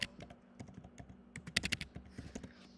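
Steady run of quiet computer keyboard keystrokes as a number is typed in, irregular clicks with a brief busier burst partway through, close and alone with no voices.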